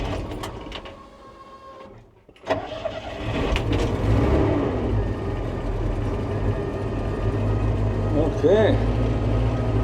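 A Bombardier Bombi's engine fitted with a Holley Sniper 1100 fuel injection system cranks and catches, then settles into a steady, moderately loud running drone, with a brief spoken word near the start.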